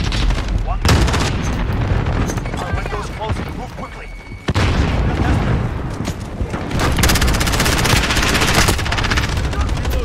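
Sustained automatic gunfire from a rifle in Call of Duty: Modern Warfare (2019) rattles on loud and close for almost the whole stretch, broken by one short pause, with heavy impacts and booms mixed in.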